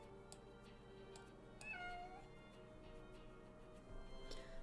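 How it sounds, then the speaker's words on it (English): A house cat meows once, a short rising-and-falling cry of moderate volume in a quiet indoor room, with no talking. "I hear you meowing."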